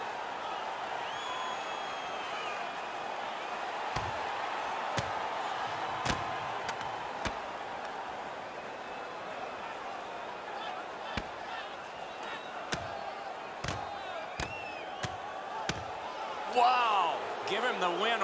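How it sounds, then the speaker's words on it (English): Virtual arena crowd in the NHL 15 hockey video game roars and cheers after an on-ice fight, a steady wash of noise with sharp slams and thuds on top while commentary talk runs over it. "You can hear the crowd."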